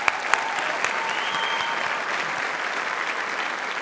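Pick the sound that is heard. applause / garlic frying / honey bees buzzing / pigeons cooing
applause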